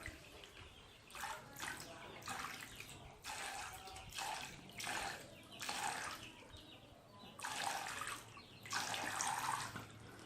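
Water pours in several separate bursts from a homemade watering can made of plastic bottles, each splashing stream lasting about a second, with quiet gaps between the pours.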